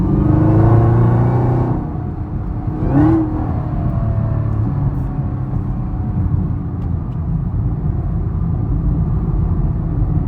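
A Chevrolet Camaro ZL1 accelerating on a foggy road, heard from inside the cabin as a loud engine rev climbing at the start, followed by a steady, lower drone and rumble as it cruises.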